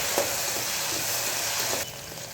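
Onions, green chilies and peas frying in a pan for coriander biryani, giving a dense continuous sizzle and hiss that holds steady and drops slightly near the end, close and without speech.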